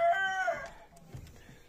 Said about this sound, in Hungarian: Itt szintén ugye japán fűrjek vannak.